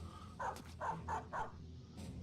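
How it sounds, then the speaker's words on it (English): Dogs in the Battle Brothers game let out four quick, close barks in a row, then a short pause and a fainter fifth bark. "The dogs are just batting cleanup for us."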